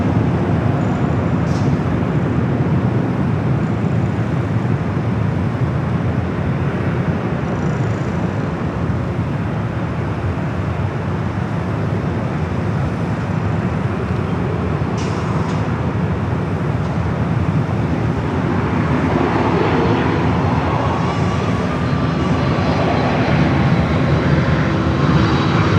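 An Air Canada Boeing 737 MAX 8 arriving at Los Angeles airport, a loud, sustained jet engine roar that holds steady throughout with no voices.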